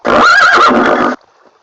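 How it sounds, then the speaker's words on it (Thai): A horse in Minecraft whinnies once, loud and close, a rising and falling neigh lasting about a second before cutting off to near silence. "วางม้าลงไปครับ"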